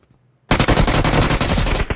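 A shotgun fires in a video game after a brief quiet start, erupting into a loud, dense barrage of rapid shots that continues to the end.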